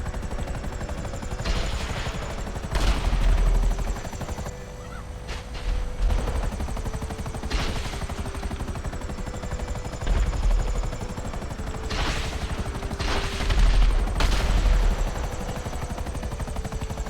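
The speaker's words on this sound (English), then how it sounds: "see if I can try and kill him with my buzzard. Now I think his vehicle might have some Imani tech" A Buzzard attack helicopter in a video game fires free-aim homing rockets, heard as a constant loud rotor drone punctuated by repeated thumping launch bursts at irregular intervals.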